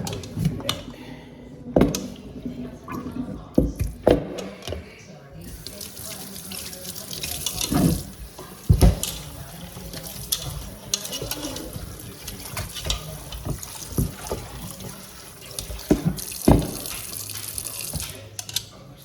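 Water from a jug splashes and gurgles into a pot of pork neck bones for rinsing, with uneven pours, sloshing and drips close by, while a person talks intermittently over the running water.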